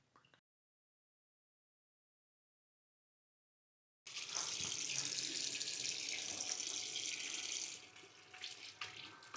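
Very cold tap water gushes steadily from a faucet over hands at a Darjeeling hotel sink, loud and close, after a silent pause, then turns choppy as the hands move through the stream.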